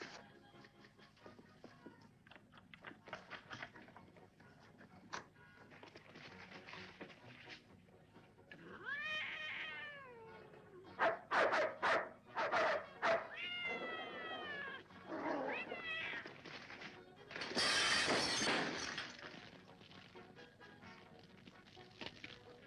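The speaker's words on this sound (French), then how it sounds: "Sœur Alicia, j'apporte à manger pour le chat" A cat meows and caterwauls repeatedly over a stretch of scattered rustling and tapping, with drawn-out, wavering cries that grow louder and more insistent toward the end.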